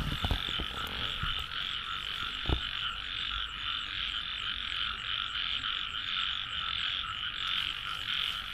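A dense chorus of rice field frogs croaking steadily throughout, with a few faint knocks and rustles near the start, in the Ilocos countryside.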